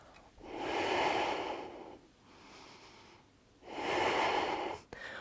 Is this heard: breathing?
yes